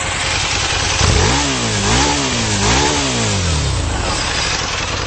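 A Harley-Davidson V-Rod Muscle on standard exhaust cans revs hard three times in quick succession over a steady throaty idle. It is loud and close, with the pitch rising and falling on each blip before settling back to idle.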